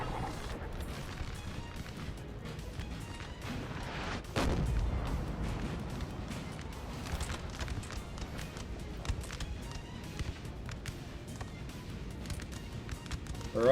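Cannon fire in the Napoleon Total War battle game: a heavy boom stands out among scattered distant battlefield rumbles and clatter over a continuous noisy backdrop.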